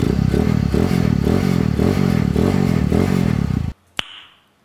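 Honda TMX155 motorcycle engine bored up to 193cc idling close and loud with a lumpy, pulsing rhythm, then cutting off abruptly, followed by a single short knock.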